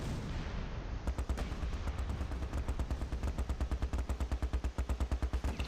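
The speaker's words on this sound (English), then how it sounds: "this artillery strike is doing so much" An artillery strike in the wartime strategy game Close Combat: Last Stand Arnhem begins after a short lull. Rapid, sharp, loud blasts follow in a dense, fairly regular rhythm, growing more distinct and pulsing toward the end.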